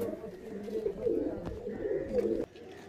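Several pigeons, including a black-eyed Madrasi male of the Fatka line, coo continuously in a loft in low, throaty overlapping calls, close and steady, with a few faint knocks in the background.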